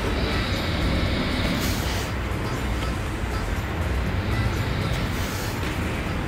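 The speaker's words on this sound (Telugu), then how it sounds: "ఇంకా మాటల్లోనే వచ్చేసింది టాయ్ ట్రైన్." A toy train at an amusement ride pulls in amid a steady rumbling, roaring wash of noise that stays loud and continuous throughout, with background crowd bustle.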